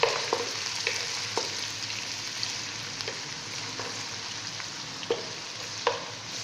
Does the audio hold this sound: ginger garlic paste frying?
yes